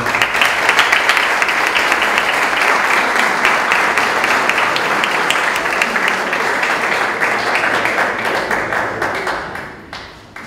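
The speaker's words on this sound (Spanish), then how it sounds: "quiero un fuerte aplauso" Sustained audience applause for a football coach being introduced at a coaching training session, dense steady clapping from a crowd that holds loud for about nine seconds before tapering off at the end.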